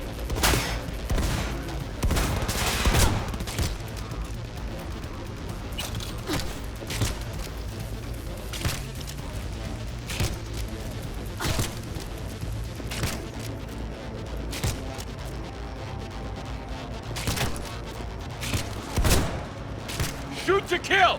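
Gunfire in the video game Cyberpunk, a rapid run of sharp shots and bursts throughout, with a player's voice talking over the action.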